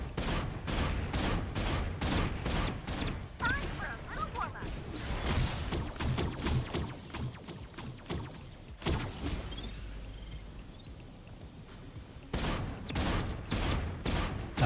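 Gunfire in the Super Mecha Champions video game: rapid, sustained bursts of shots with crashes and whooshes, loud and continuous, briefly thinning mid-clip before resuming, with faint voices underneath.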